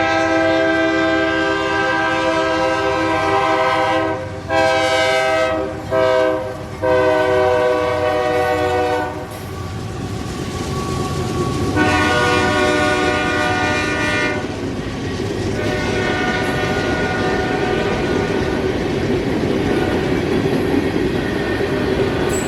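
Freight train X603 heading south through Adairsville at night, its horn sounding loud, repeated blasts close by, then a long steady rumble and rattle of railcars rolling past.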